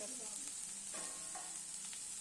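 Sliced bitter gourd and onion fry in a pan, a steady soft sizzle with faint stirring scrapes, quiet and close.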